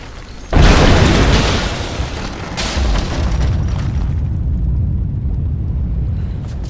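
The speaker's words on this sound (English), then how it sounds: "Looks like I'll have to use Greek fire." A Greek fire explosion in Rise of the Tomb Raider blowing out a statue's supports: a sudden loud blast, then a long crumbling rumble, with a second burst partway through as the debris keeps roaring.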